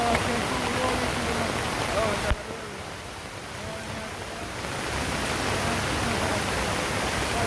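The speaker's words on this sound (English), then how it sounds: "Water gushing all the way from off the hillside, making a slurp of mud coming down." Rainwater gushes down a muddy hillside in Jamaica during a downpour, a steady broadband rushing wash that briefly dips then builds back, heard alone without talk.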